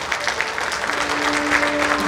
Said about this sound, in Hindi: जोरदार तालियां अथर और उनके अभिभावकों के लिए